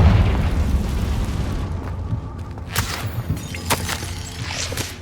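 Spell blasts crack out in Hogwarts Legacy as Confringo fires, a few sharp bursts and a distant boom rising over a continuous rumbling game soundscape.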